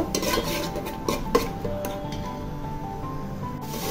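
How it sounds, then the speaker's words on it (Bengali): Garlic paste fries in oil in a pan while being stirred, with quiet scraping and clinking of a utensil against the pan over a faint sizzle. "তো রসুনটাকে তেলের সাথে একটু ভেজে নিব রসুনের কাঁচা গন্ধ চলে যাওয়া পর্যন্ত।"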